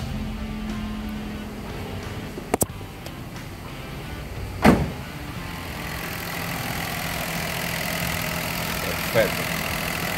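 A car engine starts after throttle body cleaning and spark plug replacement, then settles into a steady idle with a few sharp clicks and a thump, heard close up with faint voices.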